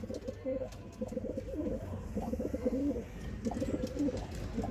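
Several Madrasi pigeons coo in soft, repeated rolling phrases, close by but fairly quiet, over a steady background hum.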